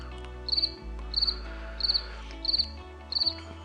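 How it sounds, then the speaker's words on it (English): Crickets chirp in five short, evenly spaced bursts over a low steady hum, clear and fairly close. "Just me and the crickets."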